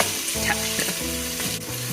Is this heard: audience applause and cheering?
no